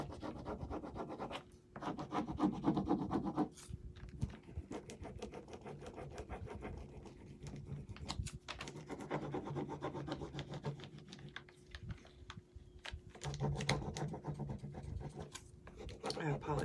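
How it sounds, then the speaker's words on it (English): A stick rubs a rub-on transfer onto lettering in brisk back-and-forth strokes, producing close, dry scratchy rasping in bursts with short pauses. "all you do is rub it onto the lettering"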